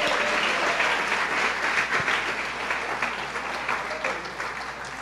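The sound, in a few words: congregation applauding in church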